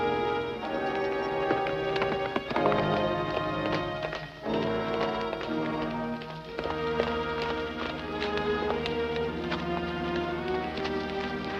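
Horse hooves clip-clop in a quick, steady rhythm beneath a loud, full orchestral score in a 1954 adventure film serial, the galloping beats blending into the music.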